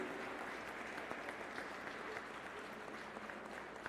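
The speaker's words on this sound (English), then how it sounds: "Please give them a round of applause to all these young students" Steady applause from an audience at a foundation day ceremony, honouring young students; dense, even clapping fills the room throughout without a break.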